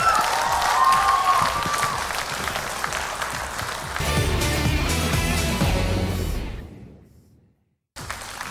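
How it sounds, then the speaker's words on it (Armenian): Studio audience applause at an X Factor gala swells and holds for several seconds over a music bed, then tapers into a brief silence before sound returns abruptly. "ծափարություններ"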